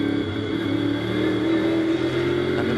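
A Nissan GT race car at the Spa 24 Hours roars at a sustained, steady pitch, loud and continuous, with no talk.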